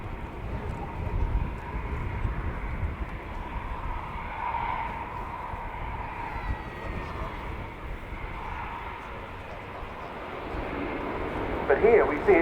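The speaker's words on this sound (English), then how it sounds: "It is the Airbus A400M." An Airbus A400M Atlas military transport flies a display at an air show, its turboprop drone a steady, moderately loud broadband roar that swells toward the end, with a commentator talking over it.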